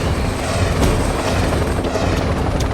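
A helicopter flying into Manhattan gives a loud, close, steady roar of engine and rotor that holds constant throughout.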